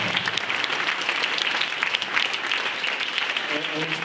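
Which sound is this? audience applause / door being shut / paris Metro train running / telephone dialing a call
audience applause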